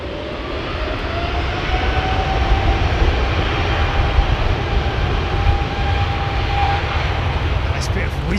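Qatar Airways jet airliner at London Heathrow spooling up its engines, a loud broad roar with a rising whine that builds and holds close by, with voices of onlookers underneath.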